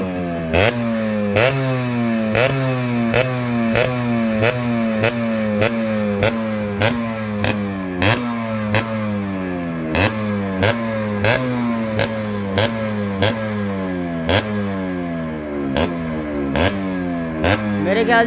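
A Yamaha RX100 motorcycle engine, fully restored to stock, revs up and drops back over and over in a steady cycle, loud and close, throttle blips repeating without pause.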